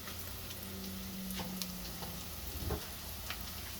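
Smoked fish (tinapa) sautéing in a hot pan gives off a steady, close sizzle and crackle with a few light clinks and stirring scrapes, and no talking.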